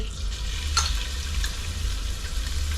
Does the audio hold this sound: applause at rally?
no